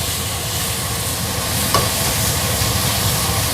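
Papaya vegetables stir-fried in a pan for sambal goreng, a steady close sizzle of frying with a single brief clink partway through.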